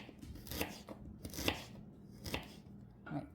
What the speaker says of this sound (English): We get a ginger, we're just gonna try to strip it very thinly.